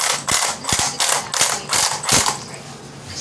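WLtoys 104001 RC car motor and gears grinding under load, a harsh mechanical whir broken by repeated ratcheting clicks and bursts in uneven surges, close and loud with no talk.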